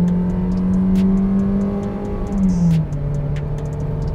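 A naturally aspirated 1.6 engine in a Peugeot 2008 Active pulls hard at full throttle, its drone rising steadily in pitch before a brief drop at a gear change, loud and heard from inside the car.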